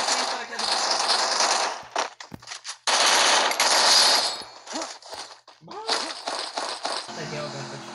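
Bursts of rapid gunfire from a video game rattle in loud clusters separated by short gaps, with a voice talking over parts of the action.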